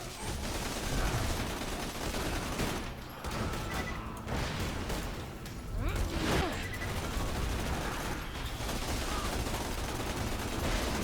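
Dense, continuous gunfire from Borderlands 2 rattles away, with rapid overlapping shots and mechanical clatter forming a thick, sustained barrage that barely dips.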